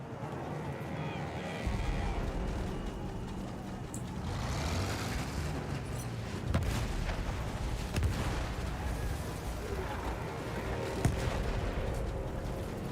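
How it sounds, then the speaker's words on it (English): Battlefield 1 battle din with heavy artillery fire, dense rumbling booms and gunfire sustained throughout at steady loudness, with sharper blasts standing out near the middle and late, mixed under shouted voices. "Artillery's tearing the boys apart!"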